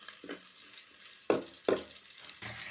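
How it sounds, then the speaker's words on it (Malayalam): Crushed garlic frying in hot oil with roasted peanuts in a pan, a steady close sizzle broken by a few louder bursts as it is stirred, no talking. "ഇനി ഇതിലേക്ക് നമ്മൾ ചതച്ച് വെച്ച വെളുത്തുള്ളി ഒന്ന് മൂപ്പിച്ചെടുക്കുകയാണ്."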